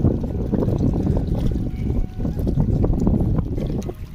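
River water splashing and gurgling over stones at a riverbank, a continuous close churning with wind buffeting the microphone.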